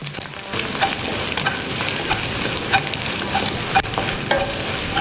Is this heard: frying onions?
yes